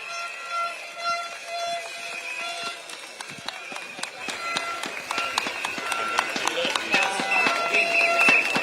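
Crowd applause at an East Coast campaign rally, a dense patter of many hands clapping that swells toward the end, with a voice talking over it.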